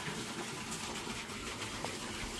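A cattle water trough in a buffalo shed in Gujarat fills with water in a steady, loud, rushing gush that holds unbroken throughout.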